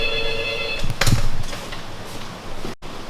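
A hotel room telephone in a luxury bungalow rings briefly with a thin electronic trill, then gives way to rustling and a faint thud nearby.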